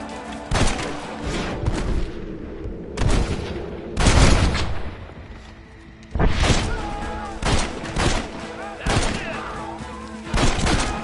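Video game gunfire rings out in rapid bursts of sharp, loud shots and volleys, with a brief quieter lull midway before the firing resumes. A shouting voice is heard at times among the shots.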